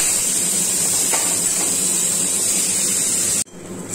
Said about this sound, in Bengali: কড়াইটা গরমও হয়ে গেছে, তেল দিয়ে দিয়েছি। এবার দিয়ে দেব কেটে রাখা শাকগুলো